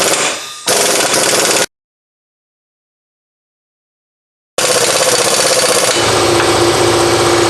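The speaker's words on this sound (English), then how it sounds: "Just run it in and get it close with the gun." Impact gun spinning an axle nut onto the CV axle of a 2001 Buick Park Avenue, two loud rattling bursts up close, then a long gap of silence before a longer, heavier run of hammering.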